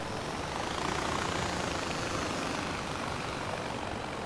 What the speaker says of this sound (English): Oh man, stupid helicopter, come on.